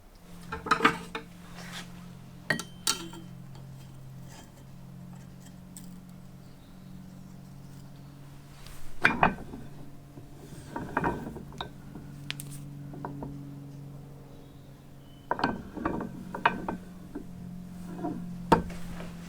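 Bronze bushes being pressed home in a bench press with Loctite 638 and a set square underneath, while assembling the bottom end of a Jerry Howell V-twin model IC engine: scattered metallic clanks and knocks over a steady low hum, with no talk.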